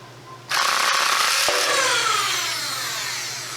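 A Nerf Double Impact prototype blaster loaded with 20 darts fires a full mag dump: one sudden loud burst of rapid mechanical rattling that trails off over a few seconds, close and with no speech.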